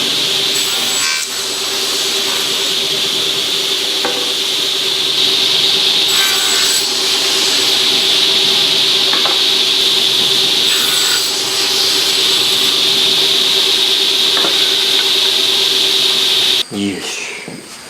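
Japanese craftsman cutting wooden boards to size for a spice rack, a steady, loud continuous rasping cut that runs unbroken for most of the time before stopping abruptly near the end.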